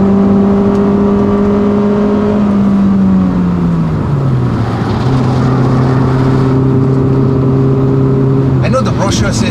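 A Hyundai i30 hums along on a test drive, its engine note holding steady, dipping as it changes gear, then settling into a constant drone with a brief rustle at the end.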